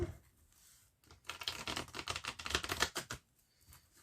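A tarot deck being cut and shuffled by hand gives a dense run of quick papery riffling clicks lasting a couple of seconds. The sound is close and fairly quiet, with no talking.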